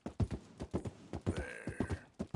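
Horse hooves clip-clopping in the Red Dead Redemption II video game, a steady run of sharp, close knocks with a brief whinny-like tone in the middle.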